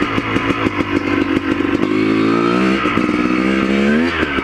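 A motorcycle ridden on an icy trail, its engine loud and close, revving in choppy bursts before settling into a sustained rising drone as it accelerates, with no speech over it.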